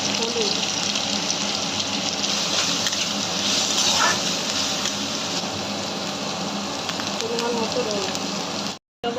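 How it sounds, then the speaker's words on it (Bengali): Spice paste with garlic frying in a pan while fish curry is cooked, a steady close sizzle that runs unbroken for several seconds before cutting out briefly near the end. "মশলাটা ভাজা হোক"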